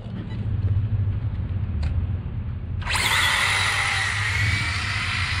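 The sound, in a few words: RC drag racing car taking off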